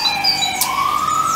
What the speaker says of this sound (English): it's on cue, the ambulance again